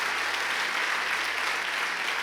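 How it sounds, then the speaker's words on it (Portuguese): Church congregation applauding, a dense, steady wash of clapping that fills the whole short stretch without talk. "Vamos lá, aplauda bem forte no nome de Jesus."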